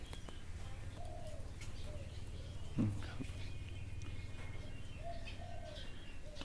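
Soft, low coos of a trained spotted dove repeat a few times at a distance over steady background noise, with a brief bump of sound midway.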